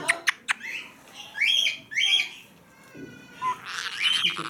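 Parrots in a parrot house give a series of sharp squawks and whistling calls, loud and close, with short gaps between bursts and a few clicking sounds.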